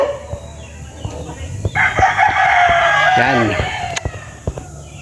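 Roosters crow loudly and close at a clean, simple chicken farm in the Philippines, one long rising call over scattered clucks and barnyard noise, with a voice speaking briefly.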